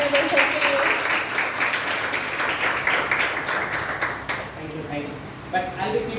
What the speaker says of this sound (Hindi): एक बार जोरदार तालियां अगर सर के लिए